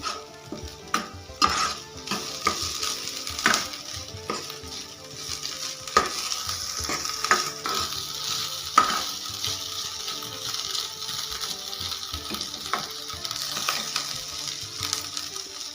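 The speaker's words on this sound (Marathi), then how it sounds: "स्वीटकॉर्न स्वीट कॉर्न घेतलेलं आहे मी ते पण चॉपरमध्ये थोडंसं असं बारीक करून घेतलेलं आहे" Chopped sweet corn frying in a pan, a steady sizzle with frequent spatula scrapes and taps against the metal, close by with no voices.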